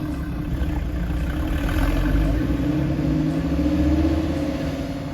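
A Porsche 911 Carrera S with sport exhaust revs steadily at a cars and coffee meet, a loud, deep rumbling drone that swells slightly and holds for several seconds.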